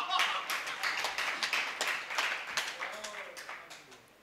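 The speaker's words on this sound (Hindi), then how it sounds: "मैं जोरदार तालियों से इनका स्वागत करता हूं, बड़े भाई सबरस मुर्सानी" An audience at a Hindi comic poetry gathering claps to welcome the poet Sabras Mursani: crisp, close hand claps start strong and gradually thin out and fade over a few seconds, with a faint voice near the end.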